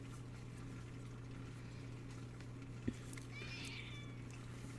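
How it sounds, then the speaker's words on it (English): A needy house cat gives a single faint, drawn-out meow indoors, sitting over a steady low electrical hum with a brief soft knock just before it. "Yes, Screamy Kitten, you is needy."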